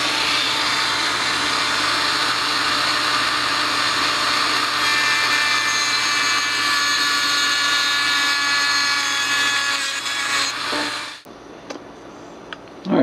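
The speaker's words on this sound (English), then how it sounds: "So I'm going to cut that in half with a Dremel" A Dremel rotary tool cuts a circuit board in half for a foot switch modification, giving a loud, steady high-pitched grinding whine for about eleven seconds before it abruptly stops and winds down.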